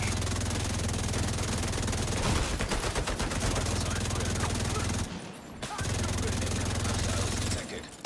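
Turret gunfire in The Division 2, loud rapid bursts of automatic fire that repeat over a droning game hum, with a brief pause between the volleys.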